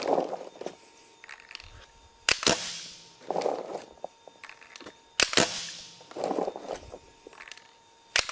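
A toy pump-action blaster fires in auto-trigger mode, sharp close cracks each followed by a mechanical pump slide and rattle, repeating in a steady cycle about every three seconds.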